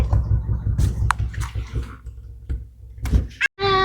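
A car door slams shut with a solid thunk near the end, just before a trip to a car wash, following a stretch of people talking inside and around the vehicle.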